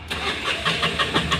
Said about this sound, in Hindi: ये मैं क्रैंक करके दिखाता हूँ